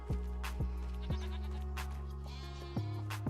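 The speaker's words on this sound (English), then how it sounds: "Sheep and goats are now located over here." Sheep bleat in short, repeated calls in Farming Simulator 25 over a constant low electronic drone, with sharp clicks punctuating the sequence.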